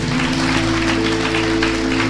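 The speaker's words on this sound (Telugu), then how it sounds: "చప్పట్లు కొడదాం" A crowd claps steadily, dense and sustained applause over a low background hum, with no voices standing out.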